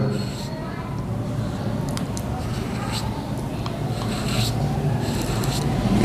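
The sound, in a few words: writing Urdu calligraphy with a cut marker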